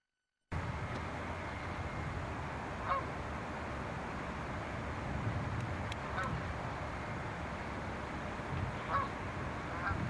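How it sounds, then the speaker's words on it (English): Canada geese honking in London, a few short calls rising now and then from a steady, busy outdoor background, moderately distant. "The Canada goose is the success story, I think, of bird breeding in London."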